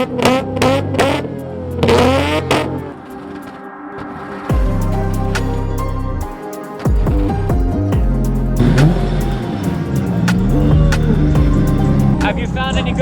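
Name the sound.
car engine starting and running at car show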